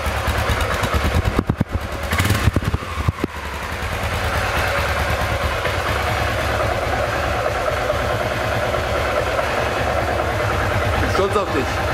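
A cafe racer motorcycle engine, cold, with its carburettor idle jet just cleared, fires up for the first time. Early sputters and bursts settle into a steady idle, close by, with voices talking over it.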